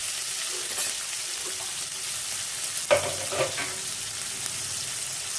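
Chopped tomatoes sizzle and fry in a pan for a rui fish curry with potatoes, with a steady hiss throughout and a few soft scraping stirs.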